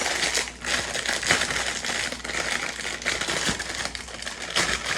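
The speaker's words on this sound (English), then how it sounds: "Standard plastic bag when we get into it." A plastic bag crinkles and rustles steadily as it is handled and pulled open, close up and fairly loud, with no talking.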